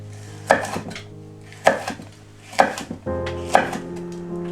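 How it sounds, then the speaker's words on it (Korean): Vegetables, including chili peppers, being sliced with a knife on a cutting board, four distinct close chops spaced about a second apart with a little ringing after each. "두께 맞춰서 썰어줍니다."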